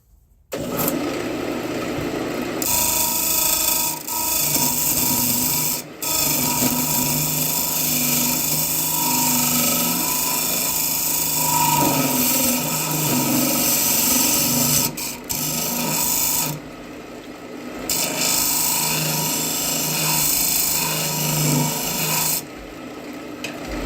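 A segmented cherry wood vessel spinning on a lathe while its top is sanded flat, a continuous loud abrasive rasp over the motor's hum with a few brief pauses, close and with no talking.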